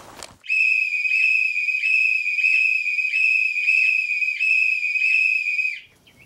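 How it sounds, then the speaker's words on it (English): A small whistle on a solar cooker sounds once the cooked bird is done, a steady, shrill, pulsing tone that carries on for about five seconds close by and then stops. "I think I hear a whistle."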